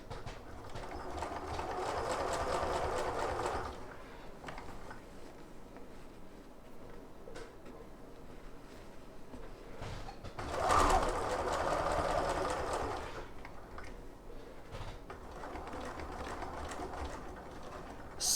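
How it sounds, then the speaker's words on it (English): Sewing machine stitching fabric panels for a craft storage pouch, its motor running in a few steady bursts of several seconds each with short pauses between, fairly close and moderately loud. "Lower presser foot and sew to the next point."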